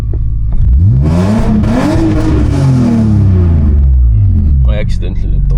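A BMW E46 with an MS43 engine computer running launch control, the engine loud and close as it revs up, holds a bouncing limiter-like drone, then lets the pitch sag as the throttle eases, with a rough rumbling tone throughout.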